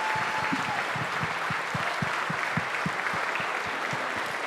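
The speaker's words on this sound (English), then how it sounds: "let's take a moment and give them a round of applause" A small crowd at a City of Weslaco commission meeting gives steady applause for police officers and firefighters, with the clapping even and sustained throughout and no one talking over it.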